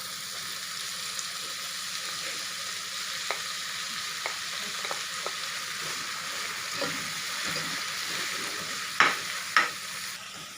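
Mustard greens stir-fried in a pan at a local food cooking competition give a steady sizzle under scattered clicks and scrapes of a utensil, with two louder clanks near the end.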